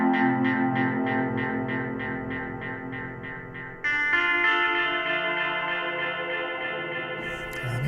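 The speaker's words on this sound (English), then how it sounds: "Let's add in crystals to hear what that sounds like." A Mellotron M4000D MkII rock guitar sound runs through a Crystals stereo delay. Rapid, evenly repeating echoed notes give way to a denser shimmering sustain, played alone without talk.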